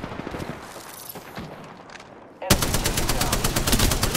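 Rapid automatic gunfire in the battle royale game Apex Legends, loud and dense bursts after a quieter opening stretch.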